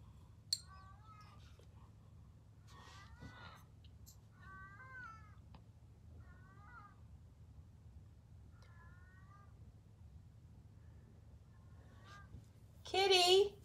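A cat meows repeatedly in short, separate cries spread across a quiet room, with a louder, closer yowl at the end and a person's voice nearby.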